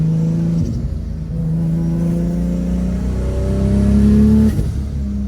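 Toyota Supra with a big-turbo, cammed 2JZGTE running on E85, accelerating hard at wide open throttle, the engine note climbing steadily through gears with a brief shift break, loud and continuous.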